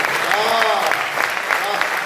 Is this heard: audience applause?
yes